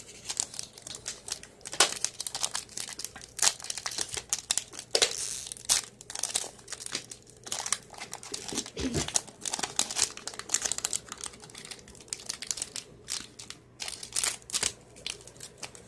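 Pokemon cards are worked out of a crinkly foil pack wrapper, giving close, irregular crinkling and rustling bursts that come and go for the whole stretch, with no clear talk.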